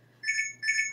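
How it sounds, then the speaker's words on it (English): An electronic alarm sounds two short, bright beeps in a quick pair, close and clear over a low steady hum. "There's somebody's alarm. Hold on, let me turn that off."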